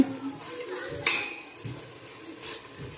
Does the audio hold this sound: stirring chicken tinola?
yes